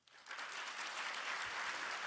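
A festival audience at a classic film screening bursts into applause, a dense, steady clatter of many hands that rises quickly and holds at full strength.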